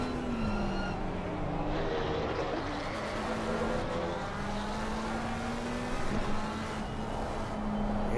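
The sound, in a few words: Porsche GT3 race car driving downhill at Laguna Seca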